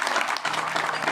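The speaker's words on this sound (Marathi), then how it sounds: "एकदा जोरदार टाळ्या वाजवायच्या." A short burst of audience applause at a kirtan gathering, dense clapping from many hands, close and continuous throughout.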